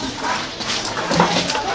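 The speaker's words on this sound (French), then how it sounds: "Si je cherche mon chien." A dog yipping and whimpering in short bursts, mixed in with people talking.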